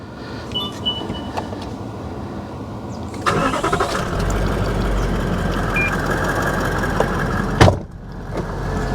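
A Cruiser engine cranks after a quiet idle stretch, a rattling whir building to a steady loud run, then a sharp burst as it catches and settles into a low rumbling idle.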